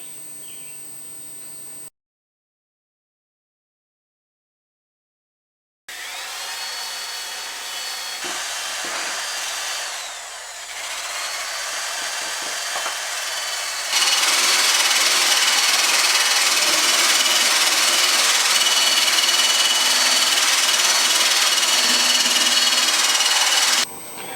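Power tools grind and clean metal parts on a 1967 Chevrolet Nova project car, a loud continuous whine and rasp that cuts out briefly, then returns and grows harsher and louder.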